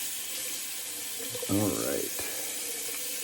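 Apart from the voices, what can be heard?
tap running for cold water rinse while shaving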